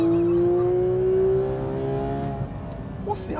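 A sports car on a race track revs hard with a steadily climbing engine note, then a paddle upshift drops the pitch into a rougher, lower roar; close and loud, no voices.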